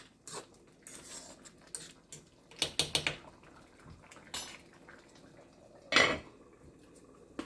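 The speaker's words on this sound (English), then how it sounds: "I'm just checking on the pot to see. I give it a stir." A spoon scrapes and clanks against a pot of seasoned rice during a Jamaican breakfast, with a few sharp metallic knocks standing out over soft, quiet stirring.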